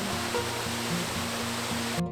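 Multnomah Falls, a 620-foot two-drop waterfall in Oregon, gives a steady, dense roar of rushing water that holds evenly throughout, with a low tonal hum running underneath.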